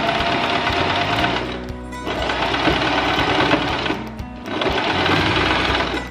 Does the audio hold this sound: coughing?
no